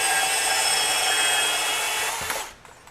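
A compact FLEX 24-volt brushless band saw makes a fast cut, giving a loud, steady, high-pitched grinding whine up close. The sound stops abruptly near the end, leaving a few faint clicks.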